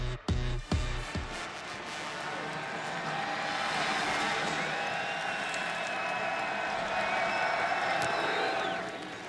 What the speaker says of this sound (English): they're right behind the Boise State bench cheering on their true freshman quarterback